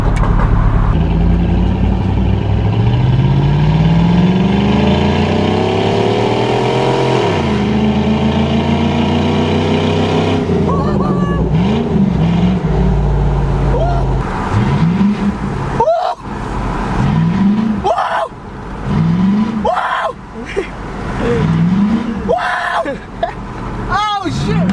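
Car exhaust with a 3-inch electric cutout, a deep loud engine drone that rises in pitch, then opens into a harsher, choppier roar with repeated revving swells, heard up close with people talking over it.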